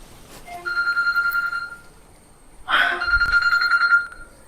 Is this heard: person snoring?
no